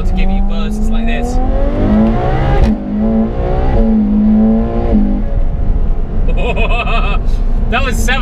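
A McLaren 720S engine revs hard and high to 7,000 RPM in repeated bursts, its pitch climbing and falling, loud and close, with a deep throaty rumble underneath.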